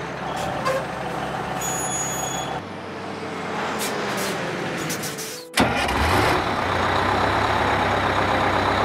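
A heavy fire truck engine rumbles, with a sharp hiss of air brakes at the midpoint before the engine revs up again.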